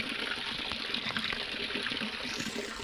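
Water runs steadily down a channel toward a vegetable garden, a continuous close gushing rush with a broad hiss that holds even throughout, no voices over it.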